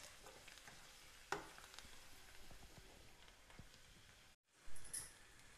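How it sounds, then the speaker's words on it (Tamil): Coriander leaves frying in a pan for coriander thokku, giving a steady soft sizzle with occasional light stirring clicks, a brief silence, then a louder burst of hiss near the end. "இதை ஒரு 2லேருந்து 3 நிமிஷம் நம்ம ஃப்ரை பண்ணால் போகிறோம்."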